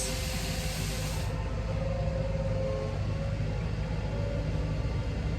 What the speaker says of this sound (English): This truck is driving me absolutely bonkers.